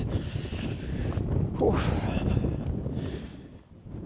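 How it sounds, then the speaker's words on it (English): Wind gusting across a mountain summit just below the top at about 2900 feet, a steady broadband rush buffeting the microphone throughout, with a brief exclamation from a voice partway through. "It's been quite windy as well"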